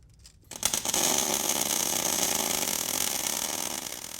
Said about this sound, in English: You weld away there, partner.